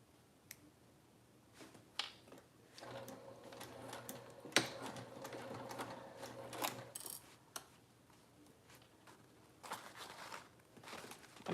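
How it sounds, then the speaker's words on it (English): A sewing machine stitching a seam from mark to mark at full seam allowance, a faint steady whir running for several seconds amid scattered light clicks and handling taps. "I'm sewing from marking to marking at my full seam"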